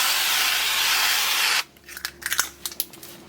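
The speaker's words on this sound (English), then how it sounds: "I'm actually going to be using avocado oil spray because it's what I've got" Avocado oil cooking spray hissed from a can in one steady burst of about a second and a half, followed by quieter clinks and handling sounds in a kitchen while preparing breakfast food.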